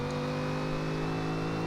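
A 2014 Chevrolet SS V8 accelerating hard in third gear in Forza Horizon 2, a steady loud engine drone with strong harmonic tones, sustained and even, with no voices over it.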